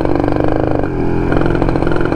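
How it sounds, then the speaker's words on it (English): A Yamaha 125ZR motorcycle with a standard exhaust revs loudly and close up during a dyno test, a raspy two-stroke drone that dips briefly and then rises again, with no talk over it. "bunyi exhaust yang standard tu pun dah jadi lain. Anda dengar tak?"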